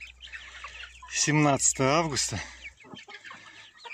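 Livny marbled chickens cluck and call loudly at close range during evening feeding at a home coop, a few strong bursts in the middle, while someone speaks briefly at the start.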